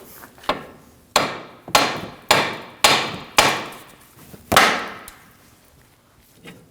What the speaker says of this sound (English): we're going to use a hammer and hit the knuckle right on the front here